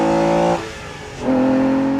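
An Aston Martin DB9 engine rated at 510 brake horsepower revs hard, a loud tonal roar that drops briefly between gear changes and then surges back, heard close and alone.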